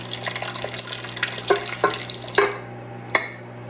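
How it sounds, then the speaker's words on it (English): Buttermilk poured into a stand mixer bowl fitted with a paddle attachment, heard as a soft liquid splashing under a steady low hum, with a few sharper clinks and splats near the end. "I'm going to add the buttermilk"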